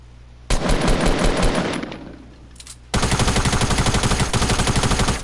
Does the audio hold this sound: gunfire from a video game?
yes